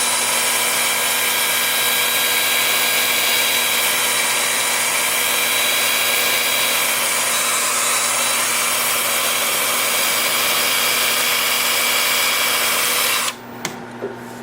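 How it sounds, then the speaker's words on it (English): Wood lathe turning a wooden flower pot, spinning in reverse at about 320 rpm, gives a steady, loud continuous whir with faint rubbing or sanding texture, then stops abruptly near the end. "Then with the lathe spinning in reverse at about 320."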